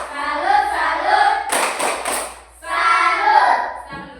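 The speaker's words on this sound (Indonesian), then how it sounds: "Tepuk salut." An Indonesian classroom of students claps a 'tepuk salut' clap chant: a loud burst of rhythmic, near hand claps in three quick groups, set between stretches of the class chanting together.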